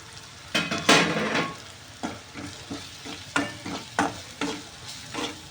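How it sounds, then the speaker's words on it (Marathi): Onion masala with ground sesame, fennel and lentils sautéing in oil in a pan, a close sizzle broken by repeated stirring scrapes and clacks of a spoon at an irregular rhythm, no voices. "त्याला ही छान आपल्याला मस्तपैकी छान परतून घ्यायचे तेलामध्ये"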